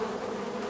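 Honeybees buzz inside a hive, a dense continuous droning hum, close and steady throughout the brief moment.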